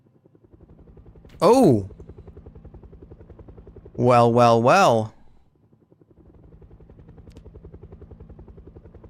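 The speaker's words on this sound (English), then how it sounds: "There was no helicopter event yet. So we got it now." A video game helicopter flies overhead during a military base infiltration mission, its steady rhythmic rotor thump running through the whole stretch while a voice calls out loudly twice above it.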